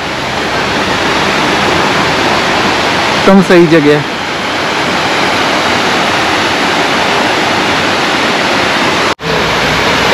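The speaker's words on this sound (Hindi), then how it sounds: "यहाँ पे देखो क्या झरना है" A roaring waterfall where a river meets it pours out a loud, constant broadband rush of water, with a brief spoken phrase partway through.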